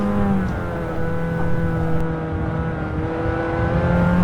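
A KIA Cadenza K7 engine accelerating on the Nurburgring, a loud steady in-cabin engine drone with rising harmonic tones and road rumble throughout, no talk.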